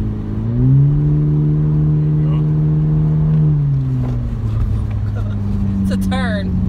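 A 2018 Honda Civic Hatchback Sport engine drones at full throttle, holding a strained, steady pitch up close before the tone drops away as the car eases off, with brief voices near the end.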